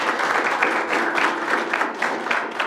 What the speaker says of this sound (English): So let's give this agreement a round of applause.